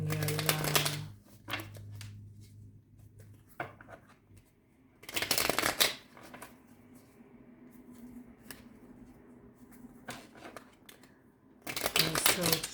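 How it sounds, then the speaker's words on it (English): Tarot cards being shuffled in quick riffling bursts, a loud burst at the start, another in the middle and one at the end, with softer card handling and a voice talking in between. "I'll shuffle one more time,"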